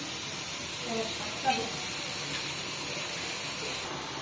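Whole cumin seeds, onion, garlic and green chilli hit hot oil in a pan, giving a steady, even hiss of sizzling that runs throughout with a brief flare near the start, a faint voice briefly audible.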